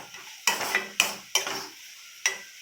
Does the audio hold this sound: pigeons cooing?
no